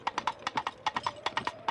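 Coconut halves clacked together to imitate a horse's hooves, a crisp and steady clip-clop trotting rhythm of about ten hollow knocks, close and clear.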